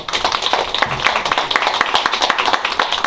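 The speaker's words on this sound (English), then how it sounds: "So if we can give her a round of applause." Applause from an audience at a school board of education meeting, dense clapping with sharp individual claps filling the room steadily for about three seconds.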